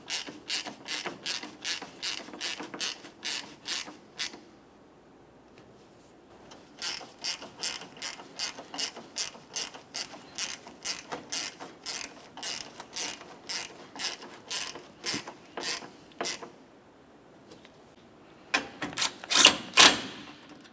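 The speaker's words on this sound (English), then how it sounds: "Now we'll tighten each of these corner bolts." Ratchet clicking while tightening the headlight corner bolts on a 2009-2010 Pontiac Vibe: rapid bursts of close, crisp mechanical clicks, pausing briefly between strokes and bolts, with no talking.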